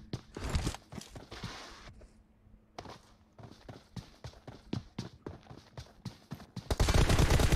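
Rapid gunfire rattles through a team deathmatch in a shooter video game, bursts of sharp cracks that come in quick clusters, then build into a dense, loud stretch near the end.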